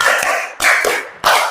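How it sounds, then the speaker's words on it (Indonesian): A group claps in rhythm during a teachers' coaching session, loud bursts of applause-like clapping pulsing in three beats and sounding close and full. "3 kali tepuk 5"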